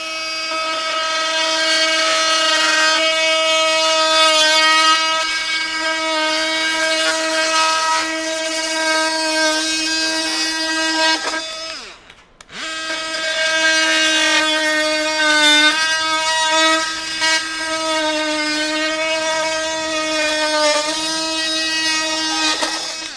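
A Milwaukee M12 Fuel 2526 cordless oscillating multi-tool with a hardwood Pro Curve blade cuts PVC, giving a loud, steady high buzzing whine that dips briefly at mid-cut before resuming, with no talking.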